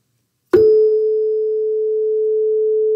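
A struck tuning fork gives a sharp metallic strike, then a single pure, steady tone rings on loudly and evenly for over two seconds with no other sound.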